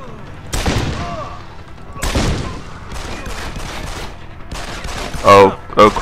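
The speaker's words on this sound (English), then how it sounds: "You know what it's a good time for? Explosive bullets." Explosive bullets fire in the video game Deus Ex 3, sounding as sharp, loud, spaced blasts with booming tails that repeat every second or two, mixed with clattering game sounds.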